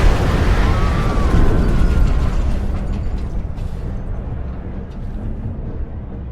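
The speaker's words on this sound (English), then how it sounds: "An explosion, but not one of ours." Explosion in the video game Mars War Logs: a loud, close, broadband boom that rolls into a long, slowly decaying rumble lasting several seconds, with no voices.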